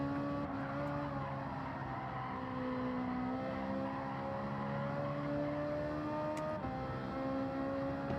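Race car engine in Gran Turismo 7 on the Catalunya circuit, a steady loud rising drone with harmonic pitch climbing through the gears, a brief dip and shift near the end, continuous with no talk.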